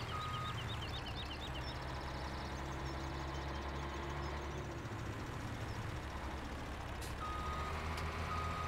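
Truck reversing beeps in Farming Simulator 17 on the South Mountain map, a steady series of high electronic beeps repeating rhythmically over a constant low engine drone, with no talking.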